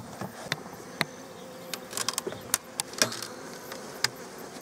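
Honeybees buzz continuously while being moved into a long bench hive, a close swarm hum punctuated by sharp clicks and knocks of frames and wood.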